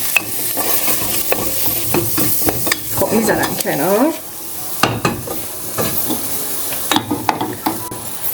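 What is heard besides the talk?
sautéing meat and onions with spices in a pan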